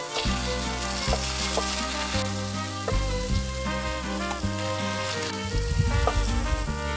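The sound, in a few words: ripe banana caramelizing on a grill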